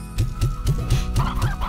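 Chickens cluck in the video game Slime Rancher, six evenly spaced low clucks close by with no talk.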